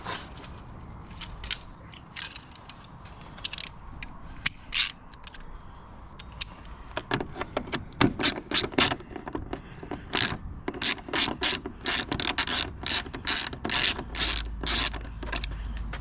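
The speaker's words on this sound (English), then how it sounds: "so we're going to get these Torx bits out. Torx 25." Ratchet clicking as Torx 25 screws are backed out on a Vauxhall Vivaro van, with quiet intermittent clicks early on, then a dense run of rapid ratcheting bursts in the second half, close and clear with no talking.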